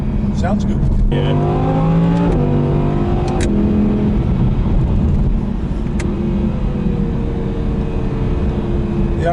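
Engine of an Audi R8 on the road, a loud, close cabin drone with rising and falling rev sweeps through gear changes, steady and continuous under people talking.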